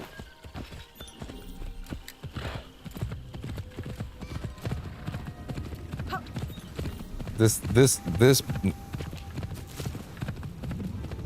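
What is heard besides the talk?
horse galloping in Assassin's Creed Shadows video game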